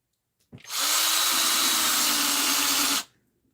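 A handheld power drill runs steadily for about two and a half seconds while carving into a pumpkin, its loud whine starting and stopping sharply, close to the listener with no voices.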